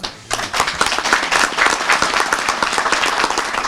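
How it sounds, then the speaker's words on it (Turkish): An audience applauds together at an indoor gathering, dense and sustained clapping that starts abruptly and stays loud throughout. "Yani canı gönülden onları alkışlıyoruz"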